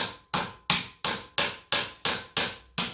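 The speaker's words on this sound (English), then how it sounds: "But I'll take this hammer" A hammer strikes a kydex skid plate on a RAD Rover, landing eight sharp, close, loud hits at a steady rhythm of about three per second, each blow ringing briefly before the next, with no talking.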